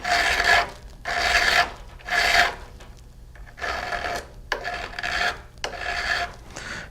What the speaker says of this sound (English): Now I'll go ahead and file that down.